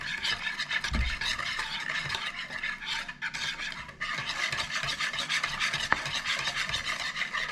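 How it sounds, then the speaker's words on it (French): Steady scraping and stirring of egg white and yolk being mixed for cookie dough, a continuous close rasping texture with a few brief dips and soft clicks, no talking. "Et je vais déjà casser le jaune d'œuf. Et je vais mélanger."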